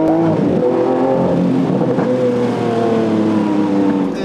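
A Lamborghini Aventador S Roadster V12 engine revs loudly and close, its tone rising and falling in sustained sweeps.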